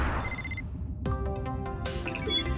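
An electronic phone ringtone in the Super Wings animated series chirps in short bright bursts, a brief tone, a pause, then a busier run of rings over a low background bed.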